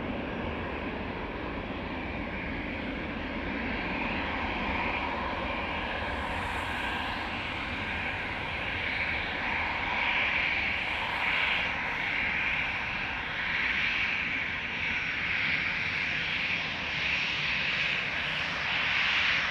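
A jet airliner takes off from Amsterdam Schiphol, a broad steady roar holding for the full stretch and swelling slightly toward the end, with no talk over it.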